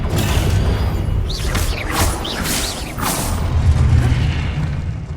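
Spell blasts from the Hogwarts Legacy video game, including the Confringo fire spell, land as a series of booming whooshes and crashing impacts over a loud, rumbling bed of game sound.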